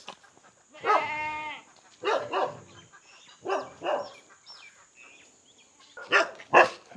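Goats bleat several times in short, wavering calls at close range, separated by quiet pauses, with a dog bark mixed in, in a village near Oddanchatram.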